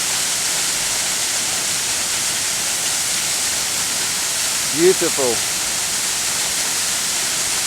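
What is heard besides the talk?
Benlister Falls waterfall crashing onto rocks after overnight rain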